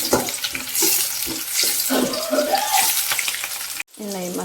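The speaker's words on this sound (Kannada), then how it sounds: "ಈರುಳ್ಳಿ ಚೆನ್ನಾಗಿ ಫ್ರೈ ಆಗಿದೆ" Onions fry in oil in a pan with a steady sizzle, broken by rhythmic stirring scrapes near the cook; the sound cuts out briefly near the end and then resumes.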